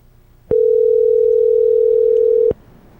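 Steady telephone dial tone while placing a call to leave a voicemail, a single clean continuous hum lasting about two seconds, loud and close, with no talking over it.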